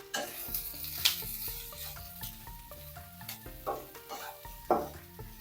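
Coriander seeds and chopped coconut roast in a hot pan, sizzling steadily while a spoon stirs and scrapes in short repeated strokes, close and fairly quiet, with music playing underneath and no one speaking.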